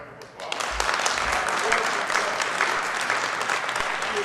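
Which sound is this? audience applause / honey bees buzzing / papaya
audience applause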